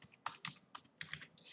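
Quick, irregular keystrokes on a computer keyboard as a code comment is typed in Python, a dozen or so close, crisp clicks in short bursts, quiet and alone.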